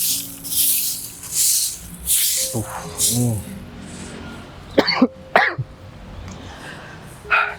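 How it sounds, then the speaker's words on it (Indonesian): Several rough coughs and throat-clearing sounds come close up, in short bursts separated by pauses, along with a few sharp hissing sprays. "Aku sampai batuk juga."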